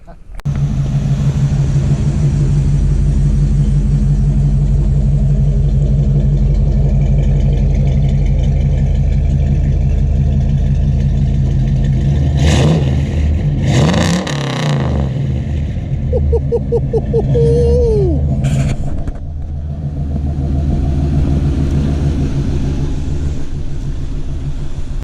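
A 1985 Chevy C10 pickup's engine rumbles loudly and steadily up close as the truck drives, with a low throbbing drone throughout and brief louder bursts midway while people talk over it.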